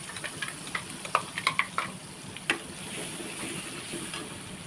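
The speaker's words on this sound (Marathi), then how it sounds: "आता हे वाटलेलं वाटण तेलामध्ये घालायचं" Ground masala paste for a Konkan-style prawn curry frying in oil on a low gas flame, a soft steady sizzle broken by a scatter of small crackles and spoon clicks early on, fairly faint and close.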